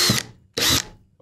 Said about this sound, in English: you're just going to take your drill